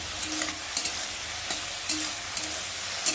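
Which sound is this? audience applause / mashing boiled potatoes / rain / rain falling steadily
mashing boiled potatoes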